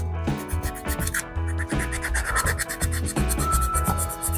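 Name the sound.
scuffing up golf cart paint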